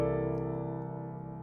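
Piano sounding a two-handed C dominant voicing, third and seventh in the left hand with third, sixth and ninth in the right, one sustained chord slowly decaying, quiet and alone.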